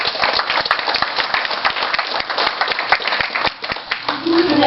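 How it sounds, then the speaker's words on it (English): Applause from a banquet audience at a 2013 motorsports awards night, a dense run of sharp claps filling the room, loud and close, thinning briefly near the end before swelling again. "give these guys a round of applause."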